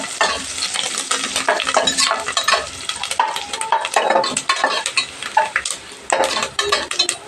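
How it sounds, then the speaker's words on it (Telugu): Black pepper and curry leaves fry in a pan for a Telugu katte pongal, a dense, steady sizzle broken by frequent stirring scrapes and clinks of a utensil against the pan, loud and close throughout. "మిరియాలు కొన్ని వేసుకోండి అలాగే కరివేపాకు వేసుకొని కొద్దిగా ఇలా ఫ్రై చేసుకోండి"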